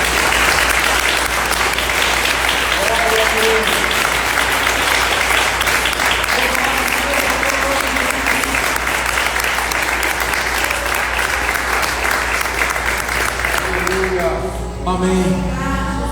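A church congregation applauds through a Sunday worship service, a loud, dense, continuous clapping from a crowd that fills the room, with singing and talk mixed underneath before it thins out at the end.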